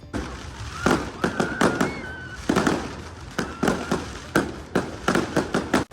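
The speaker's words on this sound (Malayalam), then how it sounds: "പെരുന്നാളിനോടനുബന്ധിച്ചുള്ള ഈ ഒരു ഫയർ വർക്ക്സ് കാര്യങ്ങളൊക്കെ തുടങ്ങിയിട്ടുണ്ട്" Festival fireworks at a Maltese village feast, a rapid irregular series of sharp loud bangs and crackles bursting in quick clusters over several seconds, with faint whistles between.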